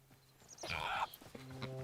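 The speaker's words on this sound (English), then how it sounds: "Ah, pig." A pig in the game Hytale giving a short grunting, squealing call lasting under a second, moderately close, with quiet game ambience and faint tones around it.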